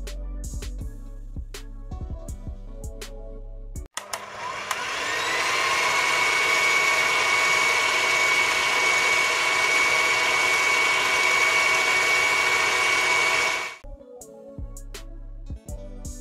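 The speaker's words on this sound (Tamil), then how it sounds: "நான் இதை வந்து மிக்சி ஜாரில் மாற்றிட்டு நல்லா அரைச்செடுத்துக்க" A kitchen mixer grinder blends cooked beetroot into jam. Its loud, steady whirring motor starts abruptly, runs for about ten seconds and then cuts off, with no talking.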